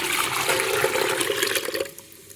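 Water pours steadily into an aloe vera pot in a rushing, splashing stream for about two seconds, then cuts off abruptly, leaving a faint trickle.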